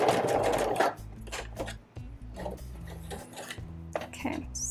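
Sewing machine stitching soft cap pieces together, its motor whirring in short bursts with brief pauses between runs of stitching and occasional light handling noises.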